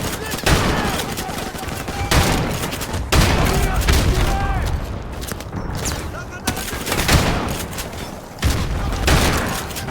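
Rapid bursts of gunfire and booming rocket-launcher explosions in Call of Duty 4, loud repeated volleys with sharp onsets every second or two, with a voice talking underneath the combat.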